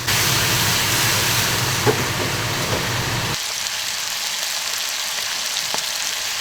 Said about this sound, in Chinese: 把带鱼稍微给它煎一下哈